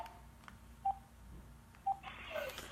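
Two short telephone keypad dialing tones, evenly spaced about a second apart, sound against a faint background hum while a call is being placed, with a brief rustle right after the second beep.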